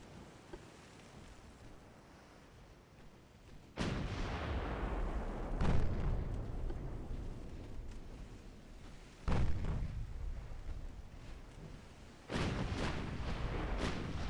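Twelve-inch naval guns in the video game Ultimate Admiral Dreadnoughts boom in four heavy, spaced salvos over a low rumble of sea and wind.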